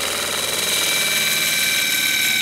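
A hand drill spins a wooden dowel through a Wizard Jig cutter, giving a steady, continuous whirring and grinding hum with tonal whine that holds at an even level throughout, close and loud with no talking.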